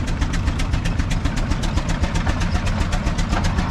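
An old John Deere A tractor engine runs at a vintage threshing show, with a steady, loud pulse of rhythmic exhaust beats over a deep low rumble, close by and constant for the whole stretch.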